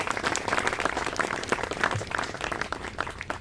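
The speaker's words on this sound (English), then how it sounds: "If y'all will help me give them a round of applause." A crowd applauds steadily at a WWII memorial groundbreaking ceremony in San Angelo, many hands clapping together in a sustained round that stays fairly even throughout.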